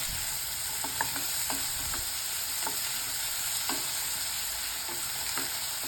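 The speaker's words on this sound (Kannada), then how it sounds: "ಅದನ್ನು ಒಂದು ಎರಡು ನಿಮಿಷ ಈರುಳ್ಳಿನ ಫ್ರೈ ಮಾಡ್ಕೋಬೇಕು" Chopped onions frying in a pan for a baingan bharta, a steady broad sizzle with faint scraping stirs at irregular intervals, close and alone with no voices.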